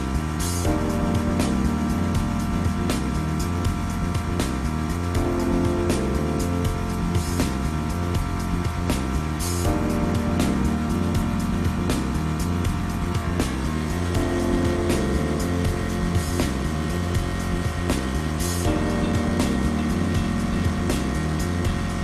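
A Torq-Comm hydraulic system adjusts pressure above 3,000 PSI as its gears turn, giving a continuous, even mechanical hum and drone with faint regular clicks throughout.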